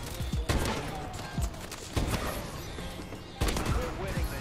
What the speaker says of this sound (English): I'm not a sniper, even though I'm sniping right now.